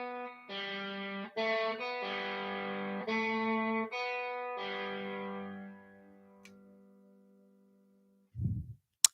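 An electric guitar through effects units with distortion and chorus plays a short phrase of notes, some held and tied, ringing out and decaying into near silence, then a brief low thump at the end.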